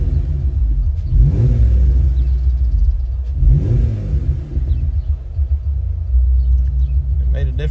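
Jeep Wrangler JL with the 3.6 V6 and an aFe intake idling with a loud low rumble, then revved twice, each rev rising and falling in pitch, close by and alone before a faint clatter at the end.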